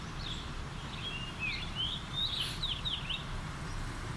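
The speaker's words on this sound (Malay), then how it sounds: "Disusuli dengan tiupan-tiupan burung guys." Birds chirp and trill on a beautiful morning, a string of thin high calls over a steady low background hum, no talking.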